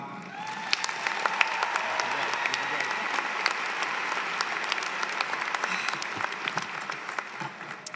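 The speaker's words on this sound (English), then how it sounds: "please greet her with a lot of applause, your student speaker, Mariam Ahammed." An audience at a commencement ceremony for online graduate programs bursts into sustained applause for the student speaker, a dense crackle of many hands clapping that holds steady for several seconds.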